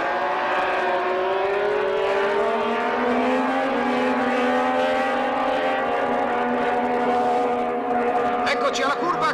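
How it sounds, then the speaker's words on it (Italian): Racing motorcycles accelerate hard on the track at the 1968 Modena autodromo, their engines holding a loud, continuous whine that climbs steadily in pitch with layered harmonics and barely pauses. "Alle staccate ritardate di Pasolini, Ambrosini risponde con brucianti accelerazioni"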